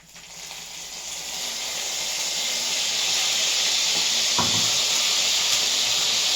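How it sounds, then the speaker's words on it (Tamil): Soy sauce hitting hot oil with garlic in a pan while making Korean fried chicken, a loud steady hiss that builds quickly and holds as a continuous sizzle, with a brief clink partway through and no talking. "2 ஸ்பூன் சோயா சாஸ் ஊத்திக்கலாம்."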